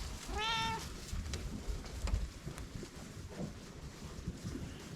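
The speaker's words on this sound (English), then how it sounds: "You're pretty friendly for being a stray cat." A friendly stray cat gives one clear meow close by outdoors in winter, followed by wind rumble and faint rustling.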